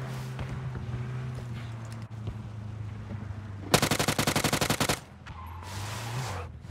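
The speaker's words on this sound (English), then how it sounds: "Someone's shooting from up here." A close burst of rapid automatic gunfire from another player in PUBG, set in a city, lasting about a second amid footsteps and ambient game sounds.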